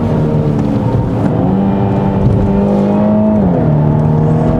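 Virtual engine sound of a 2020 Mini Countryman JCW 306 hp at high RPM on a winding road, a loud, continuous engine roar that holds steady and then shifts pitch briefly as revs change.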